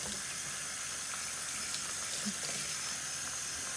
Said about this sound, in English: And you want to use hot water